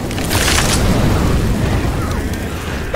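A Molotov cocktail bursts into flame in Left 4 Dead, a loud, rumbling whoosh of fire that fills the whole moment with crackling, roaring noise and no clear talk.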